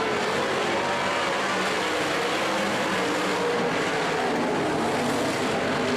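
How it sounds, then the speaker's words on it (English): 360 sprint cars racing on a dirt track, a dense continuous engine roar that stays loud and steady throughout, with no voices over it. "And in your final heat race for your 360s, I hit the chalk. We're racing."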